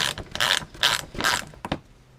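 A ratchet clicks in several quick bursts, close and crisp, loosening 10mm bolts on the underside of a Subaru WRX bumper, then falls quiet.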